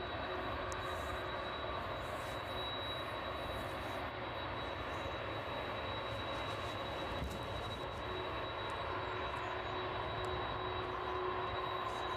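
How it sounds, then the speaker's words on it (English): A Boeing 767 jet taxis onto its stand at East Midlands Airport in the evening, arriving from JFK, with a steady broadband engine roar and a thin high whine holding level throughout, close and continuous. "Get a close up of that 767 as it pulls onto stand there."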